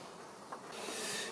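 Bees buzz around a mini-plus hive during queen rearing, a steady close hum that swells slightly toward the end of the short stretch, with no talk.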